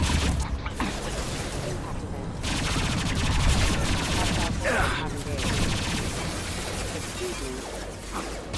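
Sustained gunfire fills a Mass Effect 2 firefight on Hardcore difficulty against Batarians, dense automatic bursts and impacts rattling nonstop at close range, with voices talking faintly underneath.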